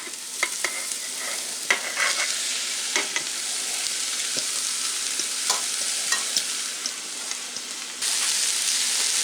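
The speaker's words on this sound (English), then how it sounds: "I'll just put the beef in and the beets" Beef and beets hit the hot soup pot for borscht and sizzle in a dense, steady crackle, with occasional clinks and stirring taps, close and continuous.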